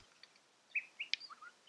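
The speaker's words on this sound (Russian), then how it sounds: "Сначала появились кукши, заявив о себе громким щебетом." Siberian jays give a few short, high chirps outdoors, faint and a little distant, scattered across a quiet background.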